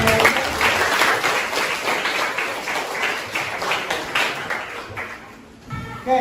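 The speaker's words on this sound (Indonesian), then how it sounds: "kita beri tepuk tangan untuk kalian semua yang sudah bertanya." A class of students applauds in a classroom, a dense burst of clapping that runs for several seconds and fades near the end, with a few voices mixed in.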